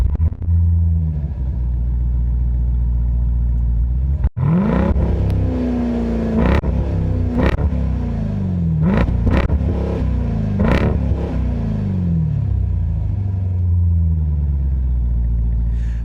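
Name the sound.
2025 Dodge Durango SRT Hellcat V8 engine started and revving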